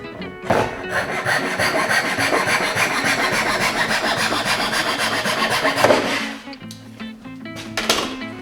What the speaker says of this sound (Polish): Jeszcze raz utnę.